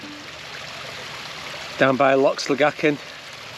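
A small waterfall by Loch Sligachan on the Isle of Skye bubbles steadily in the background, a soft, constant rush that carries on under someone speaking.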